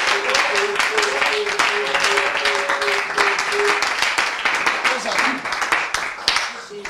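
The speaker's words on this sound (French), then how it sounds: "Est-ce qu'on peut acclamer pour le roi?" A church congregation applauding steadily throughout, dense sustained clapping with voices and cheering mixed in, loud and close.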